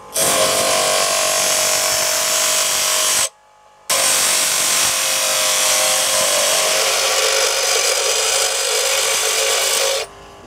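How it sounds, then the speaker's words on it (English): A bench grinder grinds a 30-degree primary bevel onto a steel travisher blade, giving a loud, harsh, continuous rasping whine. A three-second pass is followed by a brief pause, then a longer steady grind of about six seconds. "I'm going to grind off a 30 degree angle as my sort of primary bevel on the actual blade"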